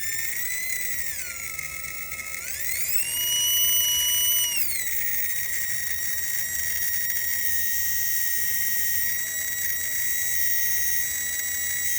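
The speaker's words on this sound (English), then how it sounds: "That's the sound of a loose gear mesh to me." A high-pitched electric motor with a loose gear mesh whines steadily, rising and falling in pitch as it speeds up and slows, with a rough buzzing rattle underneath, close and continuous.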